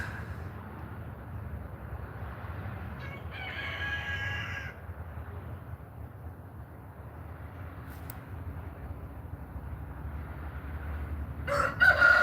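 Chickens in a backyard near a chicken house, with a rooster crowing in the middle of the clip over steady low outdoor rumble and faint clucking.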